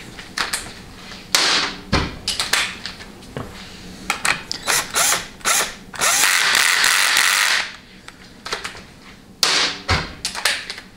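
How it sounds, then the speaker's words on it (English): A quarter-inch impact wrench on a medium setting drives the three 8 mm cover bolts on a 700R4 transmission case, firing in repeated short rattling bursts with pauses between and one longer sustained run, loud and close with no talking. "Just run like a quarter inch impact like this and keep it on a medium setting."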